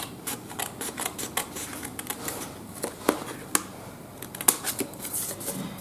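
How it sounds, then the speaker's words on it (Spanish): Scissors cutting paper for a handmade Christmas mini album, with crisp irregular snips and rustling paper close up in a quiet room. "lo hago más recto con las tijeras"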